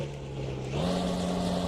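A low, steady Isuzu truck engine drone in a truck driving video game runs throughout, its pitch stepping up slightly partway through as the revs rise; no talking.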